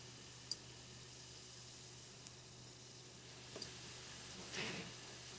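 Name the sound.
French toast in egg and cinnamon frying in a pan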